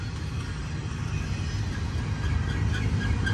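A BNSF freight train rolls along the railway as a steady, low, continuous rumble heard from a moderate distance, with no voices over it.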